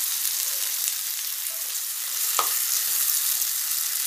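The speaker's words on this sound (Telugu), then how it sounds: "కొద్దిగా పక్కకు తీసుకొని దాంట్లో ఆయిల్లో వేయిస్తున్నాం అన్నమాట" Crushed garlic fries in oil in a pan with an even, close hiss that holds throughout, marked once by a single light scrape.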